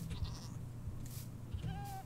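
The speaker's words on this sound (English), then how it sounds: "There are some goats." Goats bleat in Minecraft, a few short calls under a low steady drone of game sound.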